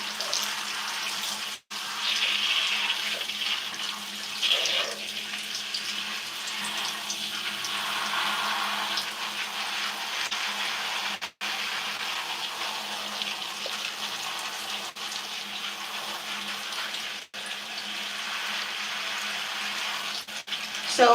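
Water runs steadily from a shower or tap while hair is rinsed, a continuous splashing hiss broken by a few brief pauses, alone without talk.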